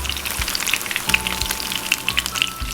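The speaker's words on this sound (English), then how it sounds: "Lumpia! Yeah, cooking along just fine." Magnolia frozen chicken lumpia fry in hot grease with a steady, close sizzle and scattered crackling pops throughout; no voices.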